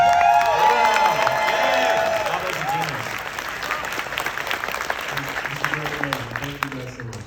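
Premiere audience applauding and cheering loudly, dense clapping with whoops and shouted voices rising over it, fading slightly toward the end; tonal music or voices sit high in the opening seconds.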